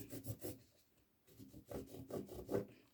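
Chalk or pen rubbing across fabric to mark four-centimetre cutting lines on a sewn pad wallet, heard as a few short scratchy strokes in quick succession, close and fairly quiet, with no talking.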